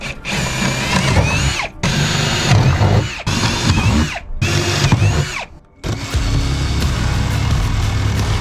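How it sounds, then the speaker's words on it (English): A power drill bores holes in an aluminum jon boat deck: four short, loud, whining bursts separated by brief pauses, then one longer continuous run, all close by. "we're gonna drill some holes"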